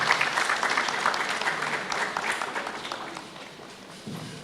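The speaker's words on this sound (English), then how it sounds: "Don't stop clapping." An audience at a World Mental Health Day event applauds a speaker coming up to the platform, dense clapping from a crowd that gradually fades over a few seconds.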